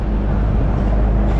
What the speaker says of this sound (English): There's a truck behind me. I'll let it pass.